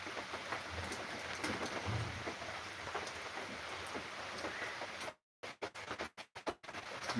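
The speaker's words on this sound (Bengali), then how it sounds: "বাইরে প্রচুর বৃষ্টি হচ্ছে।" Rain patters steadily outside at moderate loudness for about five seconds, then the sound cuts out abruptly and returns in brief broken fragments.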